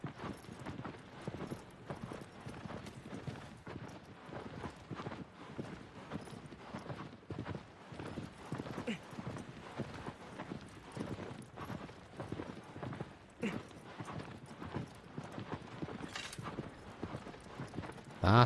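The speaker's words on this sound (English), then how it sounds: "Love the sound effects to do with the horse." Horse hooves clip-clop steadily in Shadow of the Colossus, a continuous rhythmic trot with rustling and faint metal clanking, moderately loud and without talk.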